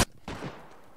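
Two sharp gunshots ring out close together during a firefight in the DayZ video game, each a loud crack followed by a short fading echo.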